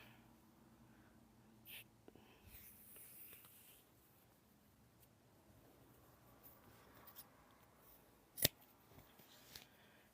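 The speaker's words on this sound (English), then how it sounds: "So we're going to cut this in half right here." Scissors snipping through fabric for a handmade oven dress towel, quiet and close, with a few sparse cuts and rustles and one sharp louder snip near the end.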